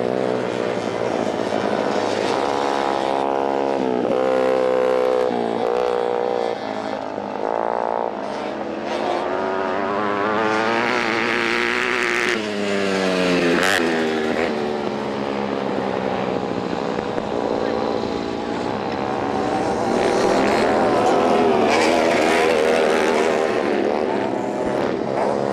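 Racing motorcycles roar past on a circuit, one engine howling loudly close by while others rise and fade, with pitch sweeping as the bikes pass and race without a break.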